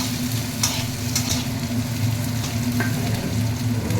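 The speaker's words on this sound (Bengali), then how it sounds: "দিয়ে সবগুলোকে হালকা ব্রাউন করে ভেজে নিতে হবে" Garlic, onions and green chillies sizzle steadily in an oiled pan, with a continuous frying crackle and a few scraping stirs of a spoon against the metal.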